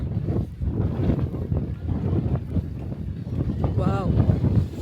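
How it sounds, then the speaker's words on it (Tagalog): Strong wind on Boracay buffets the microphone in a constant rough roar while a voice talks underneath. "Sobrang hangin."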